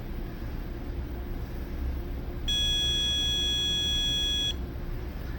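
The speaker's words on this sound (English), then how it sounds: "So with this, I'm able to trigger the beep noise based on a certain set." A dog training collar emits a steady high-pitched electronic beep for about two seconds over low background noise, then cuts off.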